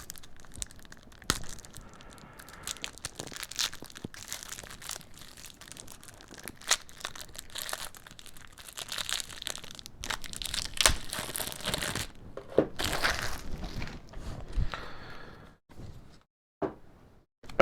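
Plastic and cardboard packaging of a Marvel Champions Valkyrie card deck crinkles, tears and crunches for many seconds, near and loud in busy bursts with short pauses, no talk.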